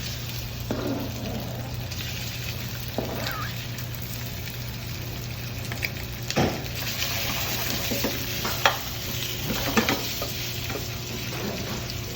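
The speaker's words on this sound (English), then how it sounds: "We'll turn the heat up a little bit. Slowly brown it carefully." Meat browning in a pan for currywurst, a steady close sizzle and frying hiss with occasional stirring scrapes and clinks spread across the clip.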